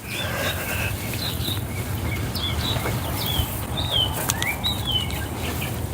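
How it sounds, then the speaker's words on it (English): Several birds chirp and squabble in quick, sharp bursts over a steady low rumble, busy and fairly close, in a Texas spring garden in the morning. "Sounds like the birds are fighting this morning."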